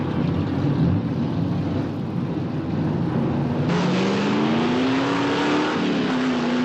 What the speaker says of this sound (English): The movie starts with some organized backroad night drag racing for money, racing that consists mostly of muscle cars of the period.